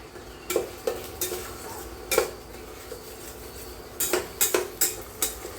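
Gravy of chickpeas with homemade red chilli and turmeric being stirred and sautéed in a pan, with sharp intermittent scrapes and clinks of a spoon against metal over a faint low sizzle, no talk.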